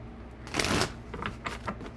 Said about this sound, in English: I think I got one more shuffle left in me, Amanda.